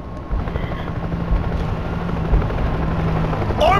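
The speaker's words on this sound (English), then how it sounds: "Army chopper! It's headed across the river." An army helicopter in the World War Z video game, a low, steady rotor drone with wind-like rumble running for several seconds at a fairly loud level, with a brief higher sound near the end.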